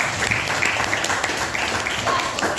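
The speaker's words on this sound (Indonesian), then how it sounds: "Tepuk tangan dulu untuk semuanya." Schoolchildren in a classroom clap their hands together at their teacher's request, a brief busy patter of many small hands with some noise mixed in.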